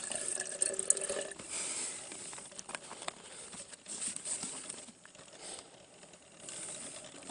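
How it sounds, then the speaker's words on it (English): Water pattering and trickling steadily as a little is poured onto insoluble lanthanide oxalate powder in a chemistry setup, faint and alone with no talk. "Let's get a little bit of water to add to that."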